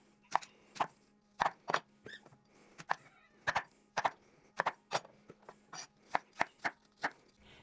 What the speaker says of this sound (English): take 2 small apples and we're going to cut them into really thin slices